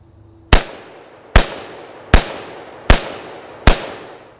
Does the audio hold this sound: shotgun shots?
yes